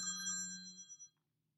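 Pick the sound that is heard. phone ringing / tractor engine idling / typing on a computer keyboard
phone ringing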